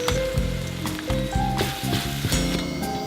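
A chili spice mix with onion powder and garlic powder sizzles in a pan, a steady close crackle with brief louder pops and bursts of scraping stirring.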